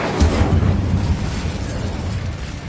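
A fiery spell burst from Hogwarts Legacy played on PS5: a loud, low rumbling whoosh that swells at once and rolls on steadily with a roaring crackle, heard alone without talk.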